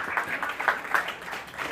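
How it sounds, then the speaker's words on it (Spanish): A church congregation applauding, a brief burst of clapping from a crowd, moderately loud and fairly close, with no voices over it. "Un aplauso para el primer levita"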